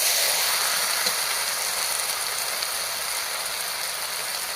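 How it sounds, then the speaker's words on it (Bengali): Pre-fried mixed vegetables for a Gobindobhog rice khichuri are stirred and fried again in a pan, giving a steady, close, even sizzle that hisses without pause and with no voices. "সবগুলো আরেকবার নেড়ে চেড়ে ভেজে নেবো"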